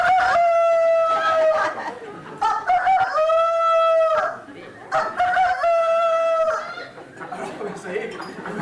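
A person imitates a rooster crowing with two long, loud cock-a-doodle-doo calls, the part of the master cockerel waking the farmyard. A play-acted farm scene is staged at a twinning event in Remich, and other voices and crowd noise carry on in between.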